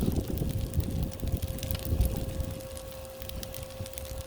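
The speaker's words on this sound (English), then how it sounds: "I don't want anything to burn, and the wind is picking up. Curse you, wind." Wind blows outdoors beside a Blackstone griddle cooking chicken fried rice, a steady rushing buffet against the microphone that sits over a constant tonal hum.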